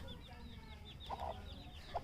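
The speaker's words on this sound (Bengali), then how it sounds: "এই মেয়ে না মুরগি, এটা মুরগি" A village chicken clucks faintly a few times amid quiet outdoor background noise, with distant birds chirping.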